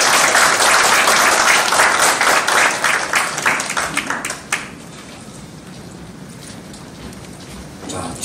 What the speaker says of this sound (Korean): 이 자랑스럽고 역사적인 순간을 여러분 뜨거운 박수로 맞이해 주시기 바랍니다